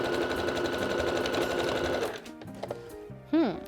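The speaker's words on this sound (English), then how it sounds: "we're just going to zigzag stitch to keep that elastic" A sewing machine runs fast and steadily for about two seconds, zigzag stitching elastic onto a bra, then stops as a voice starts talking nearby.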